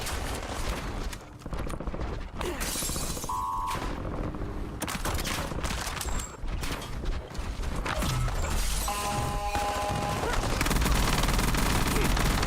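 Rapid gunfire and mechanical clatter in the shooter game Warzone, steady and close throughout, with brief synthetic beeps and a voice speaking partway through.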